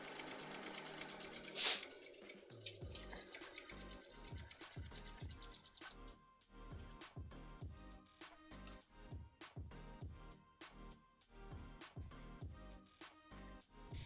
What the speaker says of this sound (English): Stitching up these lines is going a lot faster than I thought